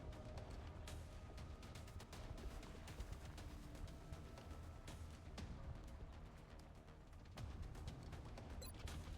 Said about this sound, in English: Firing shredder rocket.